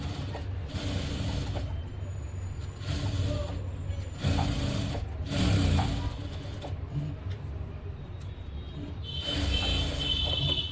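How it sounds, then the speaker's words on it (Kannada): A sewing machine winding thread onto bobbins for blouse stitching, giving a steady mechanical whirring hum with a few brief pauses and restarts. "ಎರಡು ಬಾಬಿನಿಗೆ ದಾರವನ್ನು ಸುತ್ತಿಟ್ಕೊಳ್ಳಿ"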